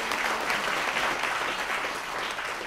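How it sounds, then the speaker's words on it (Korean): Dense, steady applause from party members at a campaign rally event in Yongin, a sustained wash of many hands clapping at even loudness. "네, 큰 박수 드릴게요."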